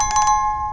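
A bright notification bell chime rings several quick strikes in a row, then lets a clear ringing tone hang and fade, close and loud with no voices.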